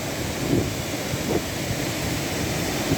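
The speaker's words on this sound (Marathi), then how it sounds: "जवळून पाण्याचा पण कसा खूप छान असा आवाज येत आहे बघा" A steady, dense roar of water rushing down a waterfall on the Dahagaon–Pivli road in Shahapur, Thane, fills the whole stretch without pause, loud and continuous with no voices.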